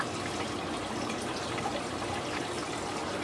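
Water pours steadily into a 130-gallon coral reef aquarium tank during setup, giving a continuous, even rushing and splashing with no talk.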